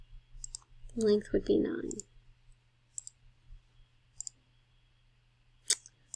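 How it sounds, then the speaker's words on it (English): Typing an answer on a computer: a handful of sparse, sharp, quiet clicks spread across several seconds, with someone speaking briefly near the start. "So I'm going to type that in here."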